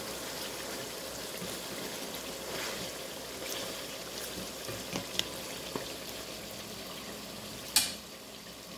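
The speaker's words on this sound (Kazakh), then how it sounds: "Етіміз қайнап жатыр." Meat frying in oil in a pot for a Kazakh pilaf, a steady bubbling sizzle running evenly throughout with a few faint clinks and a sharper knock near the end.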